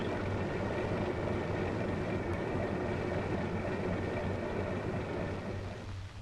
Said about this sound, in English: Allow the engine to run until the operating temperature and the oil pressure show normal